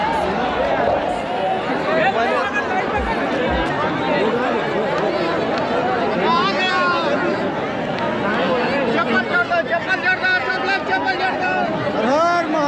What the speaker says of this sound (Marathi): गर्दी बघा गर्दी किती आहे गर्दी